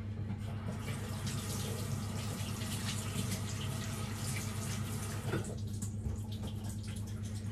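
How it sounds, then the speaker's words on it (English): Water runs steadily from a kitchen tap as hands are washed clean of pizza-dough flour, a constant close splashing hiss with a low hum underneath, no voices. "So I'm just going to give my hands a wee quick wash just for the next stage."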